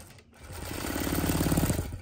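A Gammill Statler Stitcher Optimum longarm quilting machine stitches at a steady rapid needle rhythm, the sound building in from near silence after a brief pause and staying close and loud, with no talk.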